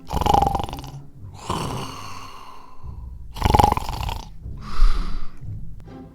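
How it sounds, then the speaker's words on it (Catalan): Loud, rasping snores come in slow, repeated breaths, each drawn-out rattle followed by a pause, close and prominent. "va sentir uns roncs tan forts que semblaven trons"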